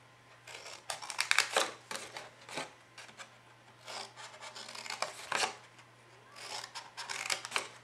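Scored paper box flaps being cut with scissors, bursts of crisp snipping and rustling paper in irregular clusters, close and moderately quiet with short pauses between.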